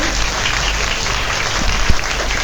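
A large crowd claps steadily in welcome at a Bhagavat Katha religious discourse gathering, a continuous wash of applause with a slight swell and a single sharp clap standing out near the end.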